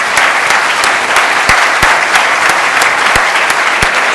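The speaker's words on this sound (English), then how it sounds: "Would you guys please join me in giving these gentlemen another round of applause" Loud, sustained applause from an audience at a public debate on fluoride in Arizona, a dense wash of many hands clapping with a few sharper individual claps standing out, no speech over it.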